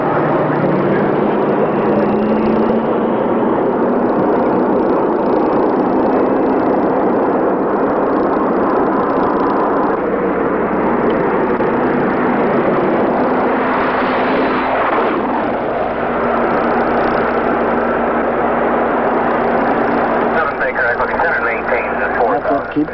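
An airplane engine drones steadily and loudly throughout, a continuous cabin-level roar with a broad noisy hum and faint tonal lines, with a voice talking over it.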